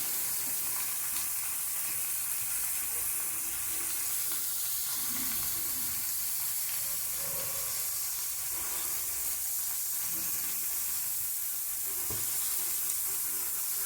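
Spiced cauliflower sizzles in a pan while being stirred with a utensil, a constant close hiss with scattered scraping and clinking touches, steady throughout with no talk.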